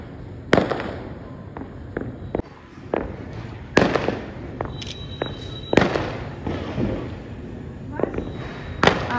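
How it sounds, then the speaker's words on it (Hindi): Firecrackers burst in a scattered series of sharp cracks and pops, some near and loud, others farther off, during a Karva Chauth celebration evening, with faint voices in the background. "पटाखे पटाखे फूट रहे आज तो।"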